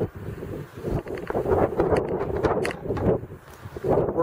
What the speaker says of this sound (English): It's pretty windy, as I'm sure you can tell by the audio here.